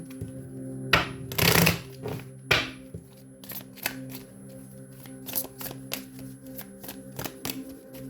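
Tarot cards are shuffled by hand, giving a burst of riffling followed by scattered light taps and flicks of the deck, close and fairly quiet with no talking.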